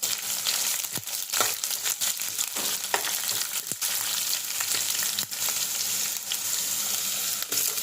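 Garlic fries in a pan of oil for a drumstick-leaf stir-fry, a steady close crackling sizzle with scattered sharper pops and occasional stirring.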